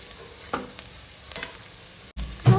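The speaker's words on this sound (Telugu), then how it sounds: "ఆనియన్ని బాగా ఫ్రై చేసుకోవాలి" Onions fry in a pan for chicken biryani, a quiet steady sizzle broken by a few clinks and scraping stirs, with a louder clatter near the end.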